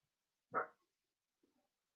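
A single short, muffled dog bark, followed by a faint soft sound and then quiet.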